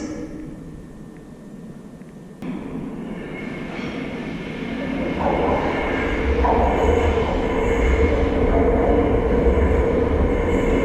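A TfL Rail train rumbles into a Heathrow station platform, its low roar and wheel noise swelling steadily louder as it pulls up close, with faint squeals and clanks.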